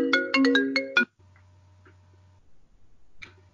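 A phone rings with a bright melodic ringtone of quick repeated tones that cuts off after about a second, followed by a low hum and faint ticking clicks.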